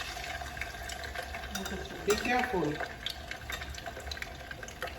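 Water runs from a kitchen tap beside a pot of oil heating for Haitian fried chicken, a steady splashing stream under brief talk and kitchen clatter.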